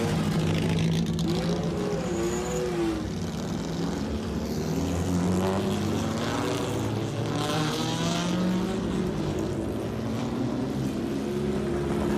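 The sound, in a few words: vintage race and sports cars racing on track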